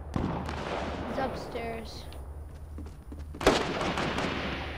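Gunfire in a duo-mode shooter video game, a few sharp reports including a loud close shot near the end, under bursts of quiet player talk.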